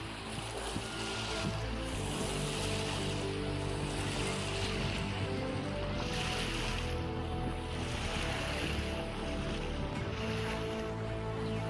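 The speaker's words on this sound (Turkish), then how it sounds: "gölün kenarı oldukça rüzgarlı" Steady wind and lapping waves fill the shore of Issyk-Kul lake at the long Ak-Döbö beach. The dense, even wash holds constant throughout at moderate loudness, with no voices.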